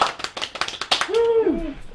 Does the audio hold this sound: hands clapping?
yes